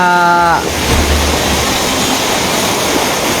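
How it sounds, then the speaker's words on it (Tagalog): Heavy floodwater from Typhoon Carina rain rushes down a sloping street in a subdivision in Montalban, Rizal, a loud, continuous roaring wash that stays close and steady throughout, briefly joined by a faint tonal hum at the start. "daloy ng tubig eh tubig ulan"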